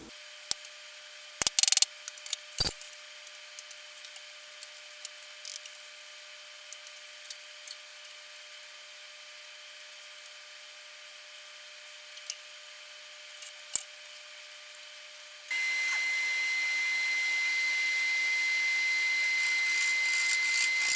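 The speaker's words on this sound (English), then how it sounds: "I'm starting with my 5/8 inch bowl gouge, and I'm going to use this with whatever cut is most comfortable just to get the bark off" A wood lathe turns a gnarled log of unknown wood while a 5/8 inch bowl gouge strips the bark. Sparse light clicks and taps come first, then a steady, fairly loud rushing cut starts and runs to the end.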